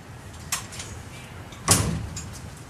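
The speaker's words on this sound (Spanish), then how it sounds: "Susana, le cierro la puerta," A door shut with a single sharp thud at close range, preceded by a softer knock or rattle, in a quiet room.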